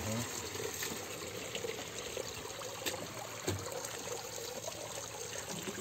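Steady broadband rush of flowing water at a village picnic area, continuous and moderately loud, with a few faint knocks and some indistinct background sound.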